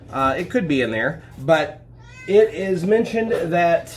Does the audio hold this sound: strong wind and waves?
no